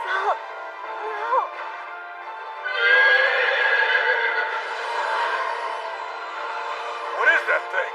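Horse neighing in an anime, a long tonal whinny swelling and wavering over several seconds, with a creature's howl answering in a duet and brief voice-like calls near the start and end.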